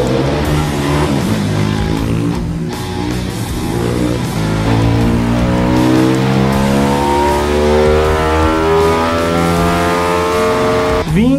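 A motorcycle engine fitted with a 190 cc bored kit with a stroked crankshaft, running on gasoline at about 11:1 compression, revs loudly and steadily up close, its rising and falling harmonics filling the whole stretch with no one talking.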